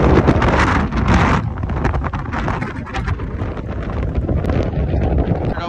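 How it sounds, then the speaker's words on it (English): Strong wind roars and buffets the microphone steadily for several seconds, high up on a cell tower, with no voices. "windy as hell."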